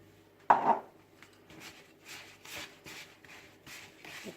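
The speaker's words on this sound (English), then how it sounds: "Again, give it a mix." Spoon mixing tea loaf batter with sugar in a bowl, a scrape at the start followed by a run of soft, rhythmic rubbing strokes, close and fairly quiet.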